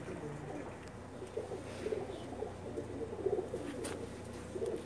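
A red-pearl pigeon gives soft, repeated coos in short bursts, faint and close, over a quiet background hum.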